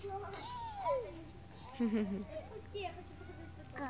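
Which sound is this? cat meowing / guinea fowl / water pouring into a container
cat meowing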